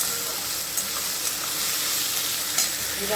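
Ginger and garlic sizzle steadily in hot oil, a dense, even crackling hiss that holds close and fairly loud throughout, with a few faint clicks and no talking.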